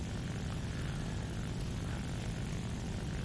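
Dauntless dive bomber in War Thunder, its propeller engine droning steadily and loud throughout, a dense broadband roar with heavy low rumble and no breaks.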